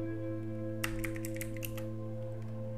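Keys on a computer keyboard tapped in a quick burst of a dozen or so clicks while a command is entered at a Windows 10/11 prompt, close and moderately loud over a steady electrical hum.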